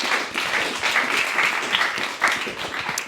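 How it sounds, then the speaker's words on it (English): An event audience applauds the speakers with sustained, fairly loud clapping from many hands, a continuous crackling patter that holds steady with a few sharper swells. "can I just have a round of applause again for the speakers"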